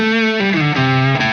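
An electric guitar played through a Wampler Pantheon Deluxe dual overdrive pedal in soft clipping mode, a few sustained, driven notes with a warm, slightly gritty tone that change pitch in steps, loud and up front.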